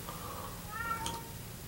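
A cat meows once indoors, a short, quiet, rising-and-falling call over a faint steady background hum, with no voices.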